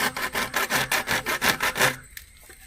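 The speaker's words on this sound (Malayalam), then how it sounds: "ഒരു സൈഡ് കട്ട് ചെയ്ത് അതേപോലെ തന്നെ ഓപ്പോസിറ്റ് സൈഡും നമുക്കൊന്ന് കട്ട് ചെയ്ത് കൊടുക്കാം" A plastic broom brush holder being hand-sawn with quick, even back-and-forth strokes, close and loud, about a dozen strokes before the cutting stops and the room goes quiet.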